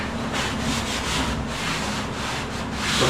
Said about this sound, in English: we need to give it a good wipe with some acetone